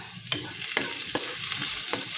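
Garlic sizzles steadily in a hot frying pan while a utensil stirs it, and several sharp scraping strokes land at roughly even intervals over the constant frying hiss.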